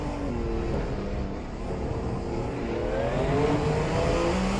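A Mercedes Group C race car in a sim racing game revs hard through a circuit section with a bus stop chicane, its engine a steady, fairly quiet drone with shifting pitch and no talk over it.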